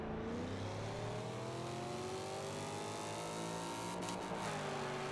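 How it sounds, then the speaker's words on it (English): A car engine revs in the racing video game Forza Horizon 2. It holds a loud, steady drone with pitch rising and falling through the gears, close and continuous, with no talk. "I just want to let you guys hear this awesome car."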